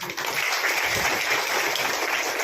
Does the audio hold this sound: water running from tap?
no